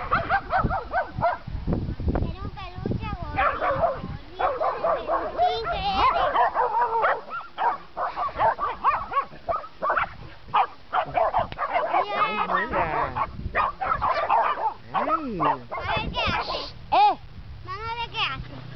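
A puppy barks and yips repeatedly in short, high bursts, with some whimpering, while people talk close by throughout.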